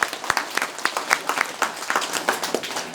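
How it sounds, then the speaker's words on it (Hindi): A congregation claps at a Sunday church service for homeless people in Shillong, a crisp, fairly dense run of individual hand claps with a loose rhythm, moderately near and filling the whole stretch without talk. "ताली बजाएंगे प्रभु के लिए।"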